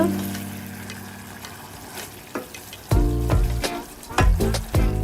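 Okra sizzles steadily in a hot pan while a utensil scrapes and clatters against it in several loud bursts toward the end.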